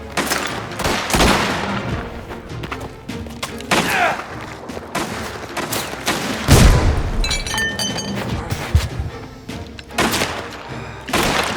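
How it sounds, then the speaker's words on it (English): Combat in the video game Mafia: The Old Country, with loud booming blasts from a grenade explosion mixed with bursts of gunfire and heavy thuds, varying in intensity over several seconds. "Using a grenade!"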